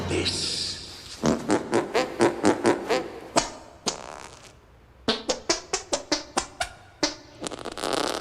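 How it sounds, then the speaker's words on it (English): A person making arm farts, a rapid series of short, wet, flatulent squelches in uneven bursts with brief gaps between them, loud and close, without any speech. "He's the arm fart kid."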